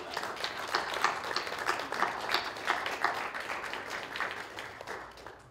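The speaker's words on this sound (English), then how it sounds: "we need to applaud Mrs. Mary Coulter" An audience applauds Mrs. Mary Coulter at an award ceremony, a dense, steady wash of many hands clapping together that holds at an even level throughout and only softens slightly near the end.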